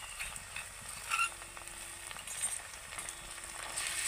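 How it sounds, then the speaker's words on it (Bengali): Ginger garlic paste fries with onions in a pan for chicken and potato curry, a soft steady sizzle with occasional light stirring scrapes, fairly quiet and without voices. "এটাকে আমি পেঁয়াজের সাথে ভেজে নেব"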